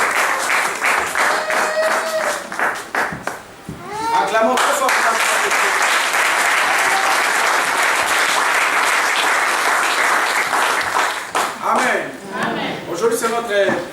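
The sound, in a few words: congregation applauding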